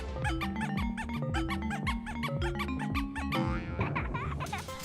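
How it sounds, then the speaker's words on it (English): Nintendo GameCube hidden startup jingle, triggered by holding Z while booting: a bright, bouncy run of chiming synth notes in a quick rhythm, ending in a shimmering flourish, loud and with no voices. "the Nintendo GameCube is over 2 decades old, but most people still don't know about its hidden startup sound."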